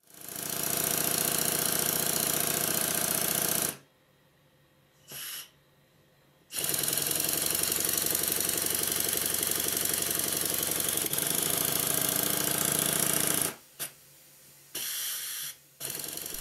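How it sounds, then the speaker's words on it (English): Loud, steady hiss and chuffing of a model Stuart triple expansion steam engine running on its high pressure cylinder, stopping for a few seconds, then starting up again with short bursts. "Now it's time to see if the engine runs in both directions."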